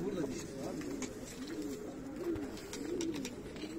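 A pigeon coos in a steady series of soft, rolling calls, moderately close, with faint background sounds around it.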